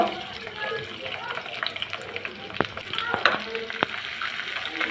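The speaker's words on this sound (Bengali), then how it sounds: "তেলটা গরম হলে দিয়ে দিব রসুন কুচি কাঁচামরিচ ফালি পেঁয়াজ কুচি একটু ভেজে নিব" Chopped garlic, sliced green chili and diced onion fry in hot oil in a pan, a steady close sizzle broken by sharp utensil clicks and stirring.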